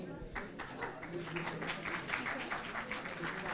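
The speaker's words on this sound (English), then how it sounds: "Can we have a huge round of applause again, please?" An audience at an Akshay Kumar Airlift promotional stage event applauds in a steady, fairly close patter of many hands. The clapping carries on without a break and a voice talks faintly under it.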